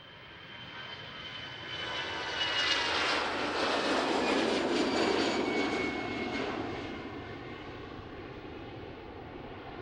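An EasyJet airliner taxis out at Schiphol Airport, its jet engines a broad distant roar that swells over a few seconds and then fades, with no talk over it.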